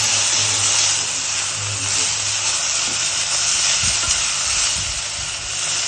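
Matki (moth beans) sautéing in a pan: a loud, close, steady sizzling hiss that runs without a break, with faint low clinks of stirring underneath.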